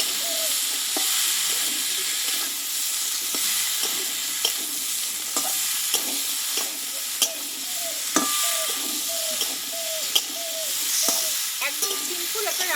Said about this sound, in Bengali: এই কাবলি ছোলাটা কিন্তু আমি নাড়াচাড়া করে দেবো মশলার সঙ্গে